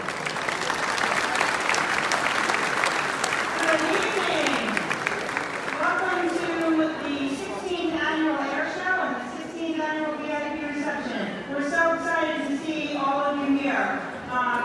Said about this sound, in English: Let's give Linda Arman a great big round of applause